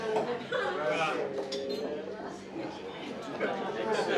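Glasses clink repeatedly in a toast at a wedding reception, bright chimes scattered through crowd chatter and voices from guests nearby.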